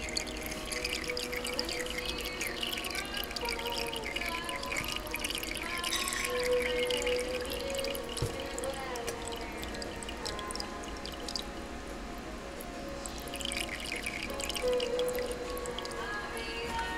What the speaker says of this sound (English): A very simple implementation of Lord Kelvin's water drop electrostatic generator.